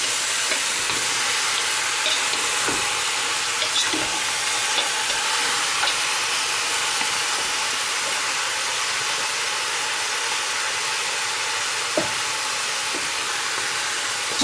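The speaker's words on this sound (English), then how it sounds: "just quickly begin to mix it so that it gets coated with all that syrup from the bottom" Oxtail pieces stirred through sticky syrup in a pot, giving a steady soft sizzling hiss with faint scraping, no voices.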